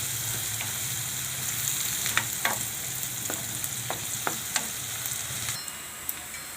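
Onions frying in a pan for chana flour and spinach curry, a continuous close sizzle broken by a few sharp stirring clicks, the hiss easing near the end.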